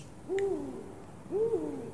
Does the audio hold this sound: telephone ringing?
no